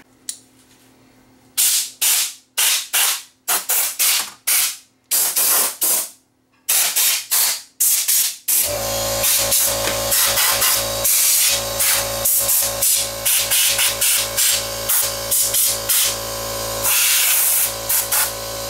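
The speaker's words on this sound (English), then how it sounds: "I'll go get my air compressor. We'll blow that out" An air compressor blows dust out of a DVD/VCR player, first in a series of short loud hissing bursts, then in a long continuous blast with rapid flutters.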